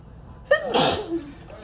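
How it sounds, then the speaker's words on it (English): A single sharp sneeze, close up: a quick intake of breath followed by an explosive burst that fades fast. "I gotta sneeze again."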